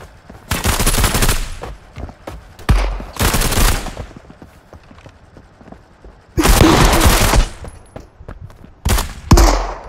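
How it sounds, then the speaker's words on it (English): Automatic gunfire in a multiplayer gunfight in the video game Marauders: several loud, dense bursts of rapid shots separated by brief lulls with scattered single pops. "I got caught in a gunfight with players and died to an AI"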